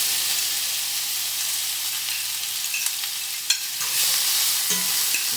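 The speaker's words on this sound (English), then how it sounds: "I'm going in with all of my mushrooms and onions." Mushrooms and onions hit a hot pan still coated with ground turkey drippings and seasoning, making a loud, steady, bright sizzle close up with a few faint clinks.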